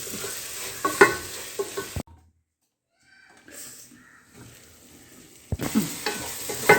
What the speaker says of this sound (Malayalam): ഇത് നന്നായി ഇളക്കാം